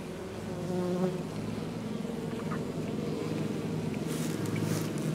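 Bees swarm in a steady, dense buzz around an opened swarm hive in the open air, a continuous hum that stays fairly even throughout, with no talking.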